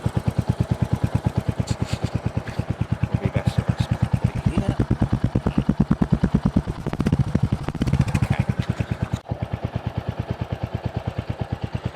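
Royal Enfield HNTR350 motorcycle engine runs steadily close up, a loud even thumping pulse with revs briefly rising and falling in the middle before settling back to idle.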